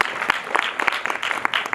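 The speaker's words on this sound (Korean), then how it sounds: "와 박수 부탁드릴게요" Audience applause at a Korean film screening's guest Q&A with the director and actors at an art-house cinema, a steady, dense wash of clapping from a seated crowd filling the short span without speech.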